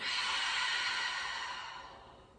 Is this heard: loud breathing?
yes